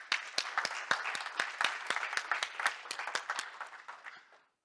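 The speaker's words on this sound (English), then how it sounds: "So could you please help me give a big applause to Tina and the other long-term volunteer fo" Audience applause at a live-streamed community gathering, a dense run of sharp handclaps from a crowd, steady and fairly close, fading out near the end with no talk over it.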